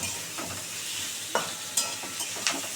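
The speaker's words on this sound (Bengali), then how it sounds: "এটা একটু ভালো করে ভাজা ভাজা হোক" Food sizzles in a frying pan with a steady broad hiss, while a spatula scrapes and stirs it in several sharp, close strokes. The dish is a small sea fish recipe, and no one speaks.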